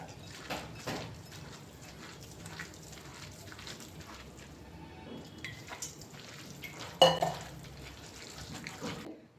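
Onion and chilli mixture with salt and water being kneaded by hand in a bowl, with soft wet squelches, occasional clinks against the bowl and one sharper knock near the end.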